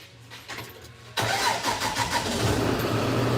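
A semi truck's diesel engine cranks and catches after a second of quiet, then settles into a loud, steady, rumbling idle close by, with no speech over it.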